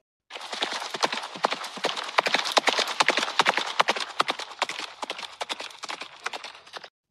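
Horse hooves clip-clop in a fast, steady rhythm throughout a ride, close and crisp, with no talk over them.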